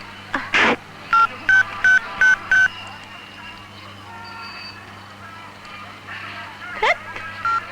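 A telephone keypad is dialed after a car breaks down. A quick run of five or six short, evenly spaced tones sounds over a faint background hum, with brief voice sounds before and after.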